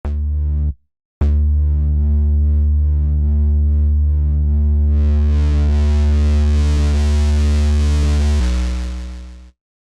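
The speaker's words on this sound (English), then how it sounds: "it was kind of a weird distortion" A loud sustained synth tone run through a gritty distortion effect with a modulation feedback loop, briefly cutting out near the start, then swelling with a buzzy, fizzing modulated edge before stopping abruptly.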